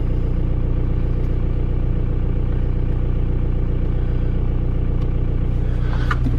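A VW Jetta 1.9L TDI ALH turbo diesel idles close by with a steady low rumble and clatter, a brief metallic rattle near the end.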